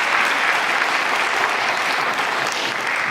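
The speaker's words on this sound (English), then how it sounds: "Please give him a lovely round of applause" Dense, sustained applause from a crowd at a Bharatanatyam arangetram dance recital, steady clapping filling the room without a break.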